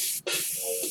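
Airbrush spraying paint onto a card, a close steady airy hiss with a brief cut in the flow partway through.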